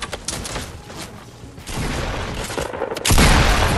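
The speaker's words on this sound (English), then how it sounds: "There was someone shooting me from another angle" Gunfire in Fortnite comes as a flurry of bursts with building noise, closing on a loud heavy blast at the end.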